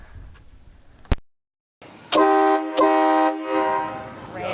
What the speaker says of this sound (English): we put a train horn in it. And boy, is this fun.